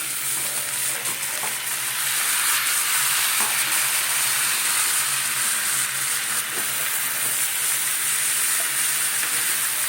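Red amaranth stalks and greens frying in a pan, a steady, loud hissing sizzle that continues unbroken throughout, with occasional faint clinks of stirring.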